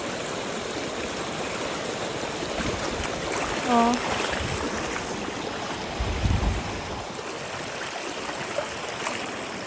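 Steady broadband rush of overflowing water pouring and churning nearby during a typhoon in Palauig, continuous and loud throughout, with a brief exclamation from a voice partway through.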